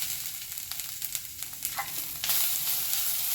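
Grated coconut frying in a pan for a fasting-style kachori filling, a bright hissing sizzle with intermittent scraping stir strokes, the sizzle swelling louder near the end.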